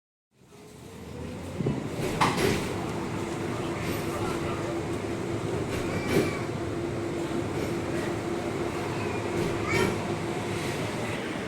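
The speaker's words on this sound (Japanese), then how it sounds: "今、路面電車とバス乗り継いで" A tram in Belgrade rumbles along steadily with a low hum, occasional rattles and clunks as it rolls over the rails.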